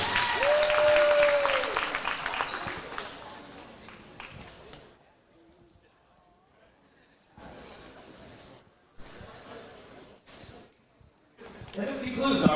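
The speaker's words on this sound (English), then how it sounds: "Let's hear one more round of applause for number 23, Megan Booth, and number 1, Elena Apulich." Crowd applause at a girls' high school basketball senior night in a gym, loud at first under a PA announcer's voice, then thinning to scattered clapping and cheers that swell again near the end.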